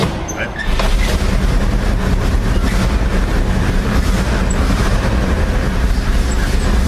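A 1959 GMC truck engine with a blown-out muffler runs close and loud, a steady coarse exhaust roar that holds after a brief quieter start.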